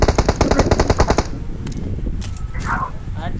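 Automatic gunfire in the mobile battle royale game PUBG Mobile: a rapid, loud burst of shots for just over a second, then quieter background game noise with faint distant shots and some talk.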